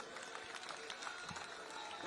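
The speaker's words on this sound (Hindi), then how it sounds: "आगे जोर से ताली बजाओ तरविंदर सिंह के लिए।" Crowd applause at a large political election rally in Jangpura, Delhi, a steady dense wash of clapping and cheering that fills the whole moment at moderate distance.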